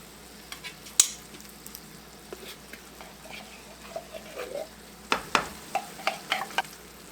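Cream of mushroom soup is stirred into a spinach casserole, with soft wet scraping and intermittent spoon clicks against the dish over a quiet background, busier toward the end.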